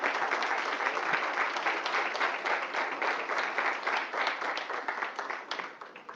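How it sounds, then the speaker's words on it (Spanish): Audience applause at a panel discussion on Central American cinema and literature, a sustained, fairly even patter of many hands clapping, moderately loud and slowly fading toward the end, with no speech over it. "Sí, aplaudan, aplaudan, hombre."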